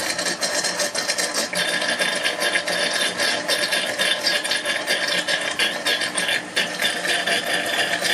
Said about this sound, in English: it will start to make a grinding noise if you let the water level fall too low